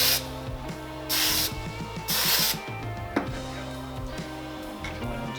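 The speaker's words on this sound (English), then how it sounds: "Nice even spray." Aerosol spray hisses onto PVC pipe in several steady bursts of about a second each, close by, with faint mechanical clicking between them and no talking.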